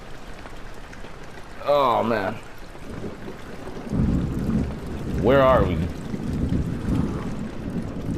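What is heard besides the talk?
rain and thunder in video game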